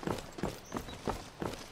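Horse hooves clip-clop at a steady walking rhythm in the video game Skyrim, five evenly spaced soft thuds, fairly quiet and with no talking.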